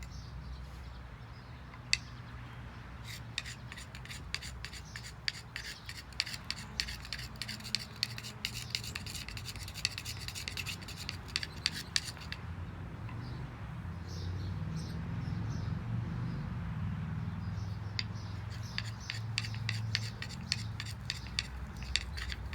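Wooden oak board rolls a cotton ball with sifted ashes beneath it, making a steady dry rasping rub with quick scraping strokes, close and fairly quiet throughout.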